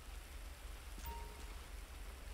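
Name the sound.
rain in the video game GTA 5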